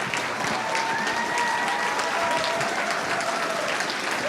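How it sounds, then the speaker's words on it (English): A Games Done Quick marathon crowd cheers and applauds steadily, a dense, loud wash of clapping with shouts and whistles running throughout. "They're going wild. So, I mean, how does that feel to you?"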